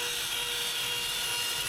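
A CNC router, an Onefinity machine, cuts out wooden cutting board stands about 6.5 inches tall by 6 inches wide. It gives a loud, steady, high whine that runs unbroken throughout with no voices.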